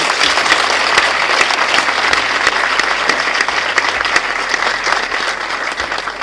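Studio audience at a Nigerian quiz show bursts into loud, sustained applause, dense clapping from many hands holding steady throughout with no talk over it.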